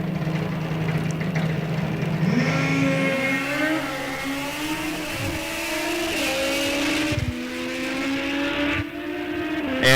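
Drag racing motorcycles run down the strip at an ET series race; high engine whines climb through the gears over a loud, continuous roar, with one bike failing to shift and a couple of sharp shift breaks.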